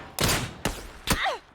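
Three loud, sharp bursts of PUBG pistol gunfire in quick succession, punchy and close, with brief pauses between them.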